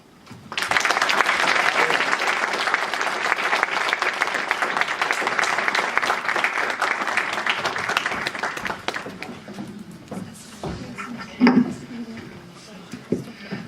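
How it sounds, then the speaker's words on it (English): Sustained applause from a crowd, loud and steady for several seconds, then fading into scattered claps and room noise with a few clinks. "I think I may ask again a heartwarming applause for Saleha Islam."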